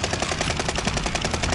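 Rapid gunfire in a multiplayer shooter video game, a quick run of loud repeated shots over about a second and a half, close and dominant with no talk.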